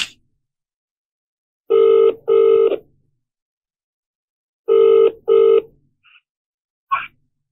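A telephone rings in two pairs of loud, electronic double rings separated by silence while a call is being placed, followed by a brief click and a short burst at the end.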